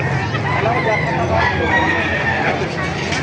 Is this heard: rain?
no